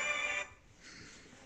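A phone ringtone trills briefly and fairly loudly, then cuts off into quiet room noise.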